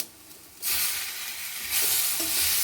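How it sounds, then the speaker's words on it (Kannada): Tomatoes with spices frying in a pan for restaurant-style shahi paneer, a bright steady sizzle that swells after a quiet start, with a few stirring scrapes. "ಈಗ ಟೊಮೆಟೊನು ಸ್ವಲ್ಪ ಹುರಿಯೋವರೆಗೂ ಇನ್ನೊಂದು ಒಂದು 3 ನಿಮಿಷ ಇದನ್ನ ಹುರ್ಕೋಬೇಕು."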